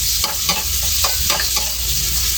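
Onions sizzling loudly in hot oil previously used to fry tofu for adobong kangkong, with steady crackling frying noise and a few bursts of stirring throughout.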